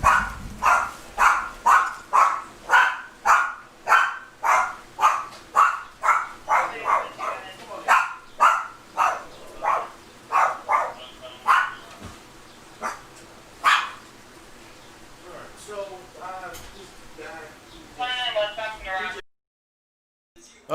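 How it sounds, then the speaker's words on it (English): A small pet dog barks in a steady rapid series of sharp yips, loud and close, tapering into softer, more scattered barks toward the end. "So my little dog, she started barking."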